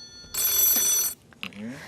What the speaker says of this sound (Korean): 전화 걸려오니까 전화 바로 받아볼게요